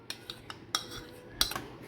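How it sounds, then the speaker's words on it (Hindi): A spoon clinks against a bowl in a few light, irregular metallic taps as yogurt is added for cucumber raita with curry leaves, chili and coriander, close and fairly quiet with no talking. "तो अब इसमें ना दही ऐड करते हैं"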